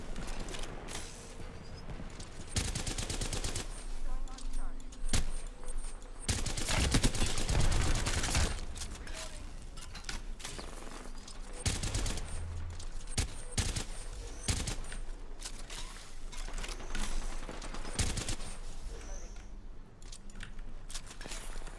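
Rapid gunfire from weapons in the battle-royale shooter Apex Legends crackles in dense, overlapping bursts and volleys for about twenty seconds, mixed with mechanical clicks and game effects.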